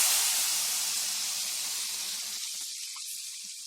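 Curry leaves hit hot oil in a pan for tomato pickle, setting off a loud, steady hiss and sizzle that slowly fades over a few seconds, with no talking.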